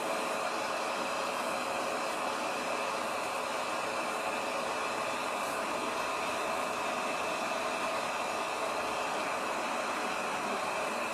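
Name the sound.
hair dryer blowing heat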